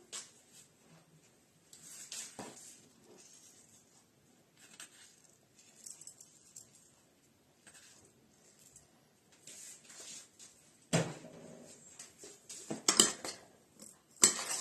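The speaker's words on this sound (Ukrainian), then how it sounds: "перемішую" A spoon stirring okroshka in a bowl gives scattered clinks, taps and soft wet squishes, mostly faint with a few louder clatters near the end and quiet gaps between, and no talking.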